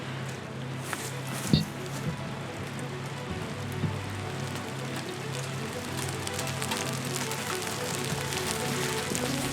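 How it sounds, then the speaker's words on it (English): Steady rain patters on a surface nearby, a constant hiss with scattered drops and a couple of louder knocks. "it started raining."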